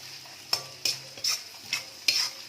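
Carrots and onion are stir-fried in a pan for prawn egg fried rice, with five distinct scraping stirs over a soft, steady sizzle, heard close and fairly quiet.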